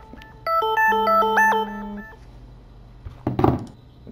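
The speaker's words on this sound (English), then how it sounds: "Oh, my phone alarm is going off." A phone alarm plays a short bright electronic melody of rising and falling tones over a held low note, lasting about a second and a half, followed by a brief rustle; no talk.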